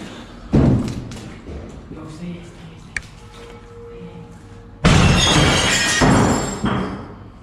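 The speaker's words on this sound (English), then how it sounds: "The video cuts off with the sound of breaking glass" Glass breaks at an abandoned building as something is thrown out a window. After some thuds and quieter activity, a loud, crashing burst lands near the end and rings out briefly.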